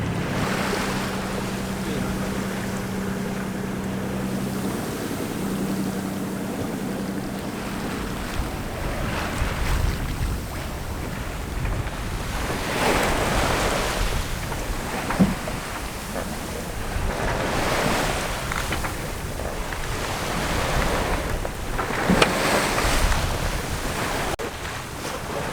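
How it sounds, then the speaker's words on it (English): A sailboat cuts across the bottom of the Messina Strait in a freshening breeze, with steady broadband wash of waves and wind buffeting the microphone throughout, rising in gusty swells and a few louder splashes. "The wind has picked up to a nice breeze and we're just sailing across the bottom of the Messina Strait"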